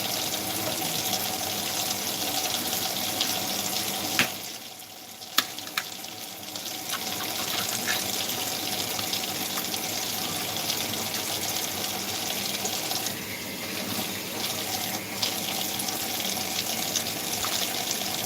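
Running water pours steadily into a saucepan for a long stretch, dipping briefly midway, with a few small knocks and no talking.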